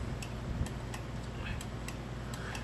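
Sharp clicky buttons on a Sega Genesis all-in-one console, a few quick faint clicks spread irregularly over a steady low background hum.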